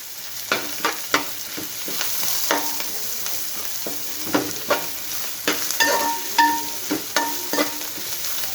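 Bitter gourd and onions fry in a pan with a steady sizzle, while a utensil scrapes and stirs through them in irregular clacks and scrapes, close and alone with no voices.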